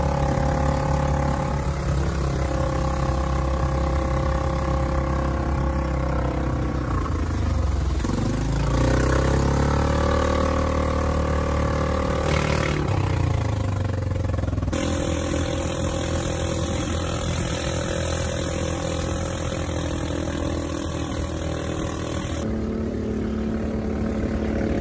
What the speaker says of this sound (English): The exhaust of our buggy broken again, and that's why we stopped and fixed that.